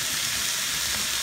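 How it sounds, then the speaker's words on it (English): Mushrooms and celery stir-frying in a hot pan make a loud, dense, continuous hiss with no pauses, close up and alone without any voices. "so stir fry mushrooms"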